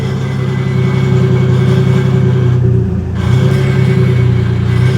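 Car engine from a Toyota JZX-series sedan held under load, giving a steady, deep, low exhaust rumble with a brief dip partway through before the drone resumes, loud and close with no talking.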